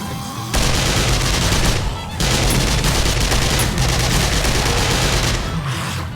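Heavy sustained gunfire in the co-op survival zombie game 7 Days to Die, a dense loud burst of rapid shots that stops briefly and then resumes in another long volley.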